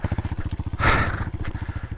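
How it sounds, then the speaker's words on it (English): An off-road vehicle idles in the Golan Heights, its engine pulsing in a fast, steady thump close by, with a brief louder rush of noise partway through. "I left my engine on, so it won't stall again"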